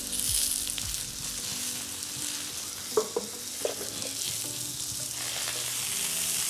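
Oil sizzles and fries on a hot plancha hot plate on a brazier, a steady close hiss with a couple of brief clacks midway and no voices.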